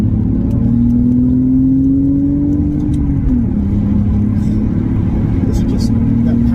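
BMW E46 325 Ci, a widebody car, accelerating with a loud smooth engine note that climbs steadily in pitch, then drops briefly at a gear change before pulling on, heard close from inside the cabin.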